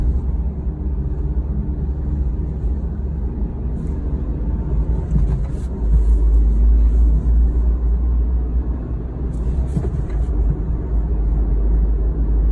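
Steady low engine and road rumble from a Suzuki Every turbo with manual transmission, heard from inside the cabin while driving, with a constant drone that swells slightly louder around the middle.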